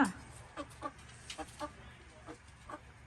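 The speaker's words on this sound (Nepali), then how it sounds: "हाम्रो दुईटा कुखुरा चाहिँ अब खाने बेला हुनु आँटेको छ क्वा क्वा क्वा क्वा क्वा गर्दैछ" Soft, scattered clucks from two hens come in short bursts every half second or so, fairly quiet against a low background hum.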